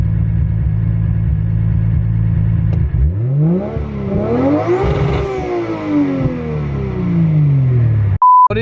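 A Nissan car accelerates from inside the cabin, its engine note climbing and dropping through gear changes over a steady drone, with a short electronic beep near the end.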